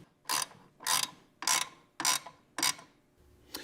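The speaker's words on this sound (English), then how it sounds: "take a washer and a nylock nut and put that on the bottom side of the ramp. And we will go ahead and tighten this up all the way." A ratchet wrench tightens a washer and nylock nut on the underside of a ramp for a Honda Ridgeline 2017-newer Limited HDx. Six short, bright, clicking bursts of ratcheting come at a steady rhythm, close up, with no talk.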